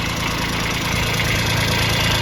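A Kubota B2140s compact tractor's three-cylinder engine runs at a steady idle, a close, even mechanical chatter with a constant knocking pulse and no voices over it.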